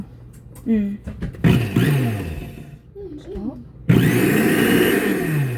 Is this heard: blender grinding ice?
yes